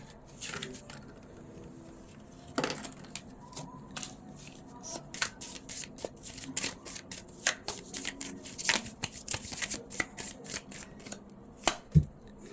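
Tarot cards are shuffled up close in a steady run of quick, papery riffles and soft slaps, with brief pauses between passes and no talking.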